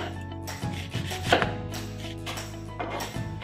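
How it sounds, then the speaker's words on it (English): Onions sliced thinly with a knife on a cutting board for bacalhau à Brás, close irregular cutting strokes and soft knocks against the board, with no voices. "Now I'm going to slice up my onions"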